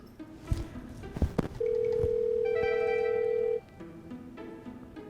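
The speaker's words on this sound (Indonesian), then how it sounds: "Baby telepon sekarang, bentar." During a phone call, a steady telephone dial tone holds for about two seconds in a quiet room, with a few soft taps and handling noises just before it.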